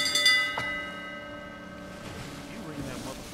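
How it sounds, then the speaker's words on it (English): Ship's bell on a pirate ship in the Sea of Thieves video game: a few quick metallic clangs at the start, then a long ringing tone that slowly fades, with faint sea and ship ambience underneath. "You ring that motherfucking bell one more time, you're going overboard"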